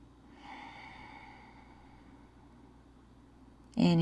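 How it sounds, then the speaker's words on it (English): Slow, steady breathing during a seated yoga forward fold, chest toward thighs, soft and sustained over a low room hum, ending in a sudden louder burst near the close. "Breathing here."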